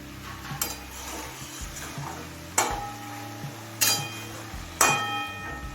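A spatula stirs fenugreek greens through mixed vegetables in a frying pan, with a soft sizzle and scraping under three sharp metallic clinks against the pan, spaced about a second apart near the end.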